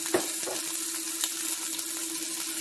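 Sirloin steak frying in a pan, a close, steady hiss and crackle of fat with a few sharp pops and spatters, no talking.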